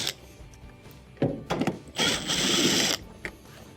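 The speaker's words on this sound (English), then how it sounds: "underneath here we have 2 T20 Torx screws that have to be taken out" Two T20 Torx screws being backed out of a washing machine's detergent dispenser: short bursts of driver whirring and scraping, with one longer run of a second or so, close and fairly loud, followed by a light tap.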